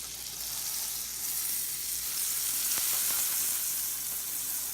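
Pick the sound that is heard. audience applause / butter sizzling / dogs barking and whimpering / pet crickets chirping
butter sizzling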